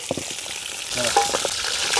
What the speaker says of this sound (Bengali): জায়ফল স্টার জাবিত্রী গোটা জিরে তেজপাতা ভাজা ভাজা করে নেব